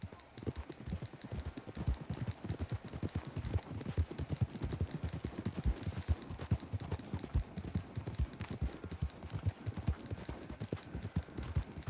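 Horses gallop at full speed in a race in the video game Red Dead Redemption II, rapid thudding hoofbeats in a fast, continuous rhythm, loud and close for the whole stretch.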